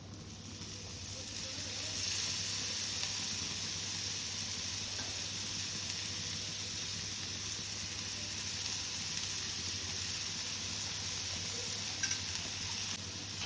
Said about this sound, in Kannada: ಫ್ರೈ ಮಾಡ್ಕೊಳ್ಳೋಣ ಚೆನ್ನಾಗಿ.